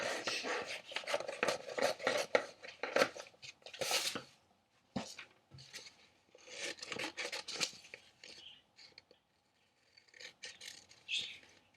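Scissors cut out wallpaper squares with close, rasping snips and rustling paper in uneven bursts, broken by short pauses.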